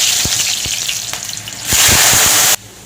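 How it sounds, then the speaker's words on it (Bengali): Potatoes frying in hot oil with nigella seeds in a pan, a bright steady sizzle punctuated by sharp spatula scrapes and knocks, growing louder near the end before stopping abruptly. "আমি আলুটা ভালো করে ভেজে নেব"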